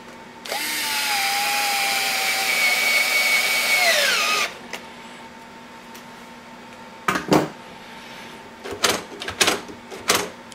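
Electric drill driving Phillips screws, a loud whirring motor run of about four seconds that winds down as the screw seats, followed by a pause and several short clattering knocks and handling clicks.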